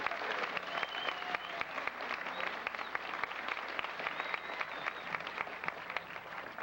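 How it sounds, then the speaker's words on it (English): Audience applauding steadily at a 1986 middle school graduation ceremony, dense sustained clapping from a large crowd, even and continuous throughout, heard at a moderate distance. "this class deserves a big round of applause for their efforts"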